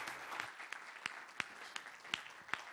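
Audience applause welcoming Mark McClellan as keynote speaker at a 2012 cancer conference, a steady patter of many hands clapping with sharper individual claps standing out, sustained through the moment without talk.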